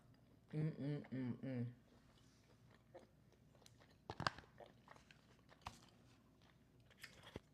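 Someone eats chicken close to the microphone, with a few soft bites and crunchy chews spread through the quiet, after a short stretch of voiced humming or talk near the start.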